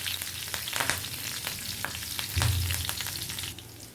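Crushed garlic, leaves and cumin frying in a pan on the stove, giving a close, steady crackling sizzle with scattered sharp pops and a brief stirring scrape near the middle.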